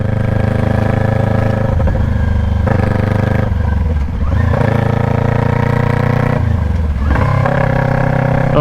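A 2021 Kawasaki Ninja 400 motorcycle with its muffler deleted revs hard and loud close by. The harsh, raspy exhaust note climbs and drops with repeated throttle blips, with no talk over it.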